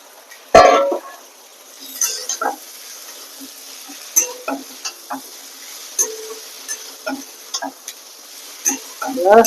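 Fried pointed gourd is stirred and sautéed in a pan, giving a low sizzle under scattered close scrapes and clinks of a spatula. Brief knocks and a sharp clatter punctuate the frying, with no voices.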